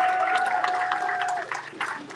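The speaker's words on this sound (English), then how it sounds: "please give a warm round of applause" Audience applause at a product launch for Fuchs Philippine, a dense patter of clapping from a crowd at moderate distance, sustained and slowly thinning over a couple of seconds.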